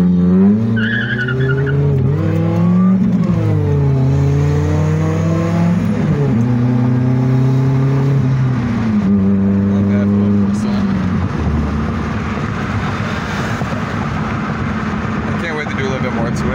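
V10 sports car engine revving through repeated rising and falling sweeps, loud and near, before settling into a rough sustained roar.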